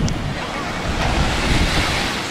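Sea of Azov waves washing onto the shore at Sedovo, a loud, steady surf roar with wind buffeting the microphone throughout.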